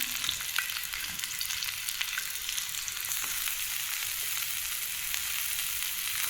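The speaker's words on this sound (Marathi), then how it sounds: "तर या पद्धतीने मी कच्चा कांदा आहे ना असा तव्यावर तेलामध्ये टाकून घेतला आहे." Chopped raw onion fries in oil on a hot tawa, a close, steady crackling sizzle with occasional sharper pops and faint stirring scrapes, with no talking.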